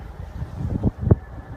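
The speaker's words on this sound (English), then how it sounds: "If you can hear me, it's quite windy." Wind buffeting the microphone while riding a Ninebot ONE C+ electric unicycle outdoors, low rumbling gusts with a couple of louder thumps.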